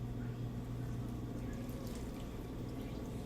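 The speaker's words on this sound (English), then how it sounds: "you are going to add warm water" Warm water is poured into pupusa dough in a home kitchen, a soft continuous trickle and splash set against a low, steady background hum.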